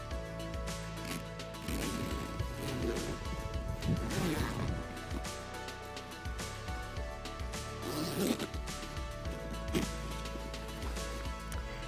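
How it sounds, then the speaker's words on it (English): Repeated zipping sounds, a few long drags of the zipper on an inflatable kayak's tube cover close by, with rustling and handling noises in between. "Now I've got it zipped up"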